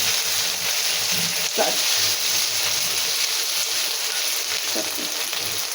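Ginger, garlic and cumin paste fries in a pan with a steady, dense sizzle that holds throughout, broken by a few faint stirring scrapes.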